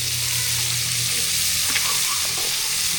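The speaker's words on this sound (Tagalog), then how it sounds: "gigisa na natin yung munggo or black beans" Black beans (munggo) being sautéed in a pan, with a loud, steady sizzle and brief stirring scrapes, heard close up with no talking.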